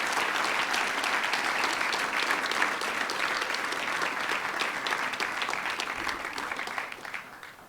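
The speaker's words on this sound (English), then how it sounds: "let's have another round of applause for all the student athletes here today" Dense, sustained applause from a crowd at a high school national letter of intent signing ceremony for student athletes, holding steady for several seconds before tapering off.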